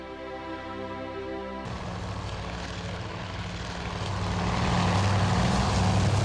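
Carrier-based propeller planes in the naval game Task Force Admiral, a dense steady engine drone after a brief tonal hum that swells louder toward the end, with no voices.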